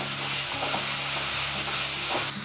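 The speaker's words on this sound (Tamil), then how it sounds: "நல்லா இந்த பச்சை ஸ்மெல் போகிற வரைக்கும் நல்லா வதக்கணும்." Spicy mint chicken masala sautéing in a pan gives a steady sizzle and frying hiss with soft stirring scrapes, close and continuous, with no talk.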